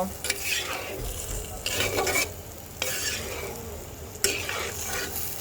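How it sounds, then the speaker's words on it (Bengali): Spinach and mixed vegetables are stirred in a frying pan, with a spatula scraping in several rhythmic sweeps over a steady sizzle that sounds close and moderately loud, and no one speaks. "তো চলো সব কিছু একসাথে মিক্স করে দিলাম"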